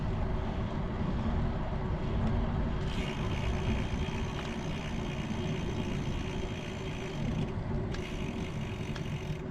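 Road traffic beside a lakeside bike trail at Lake Monroe, a continuous low rumble of passing vehicles with a steady engine drone rising partway through, moderately distant.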